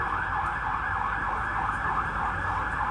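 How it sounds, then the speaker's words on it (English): An ambulance siren wails steadily outdoors at a city square event, loud and continuous with a sweeping two-tone warble, with no voices over it. "Let's allow this ambulance sound to pass and then I'll start my speech."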